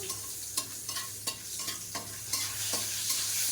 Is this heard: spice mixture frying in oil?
yes